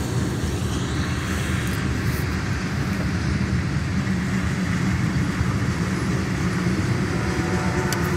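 A CSX mixed freight train of boxcars, gondolas, tanks and hoppers rolls past eastbound, giving a steady, loud continuous rumble and rolling wheel noise close by, with no talking.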